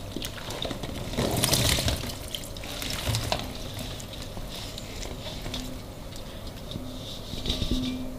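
Water from salted mangoes being prepared for pickle is poured and drained off, a soft splashing and trickling that swells briefly at the start then continues as a faint, steady liquid rush.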